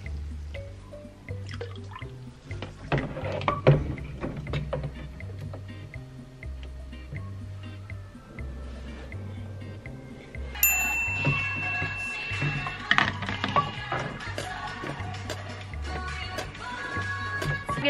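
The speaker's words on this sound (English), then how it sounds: "Gonna just be pouring the chemicals back into the bottle." Film developing chemicals pour back into their bottle in soft dripping, splashing bursts over a steady low hum, growing busier and brighter partway through, with no talking.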